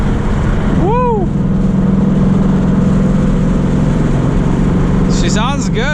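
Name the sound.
2019 Ford Mustang GT engine revving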